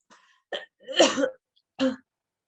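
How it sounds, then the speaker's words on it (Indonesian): A few short coughs, close and fairly loud, with one longer throaty cough in the middle, in an otherwise quiet room. "Kayaknya batuk dulu ya."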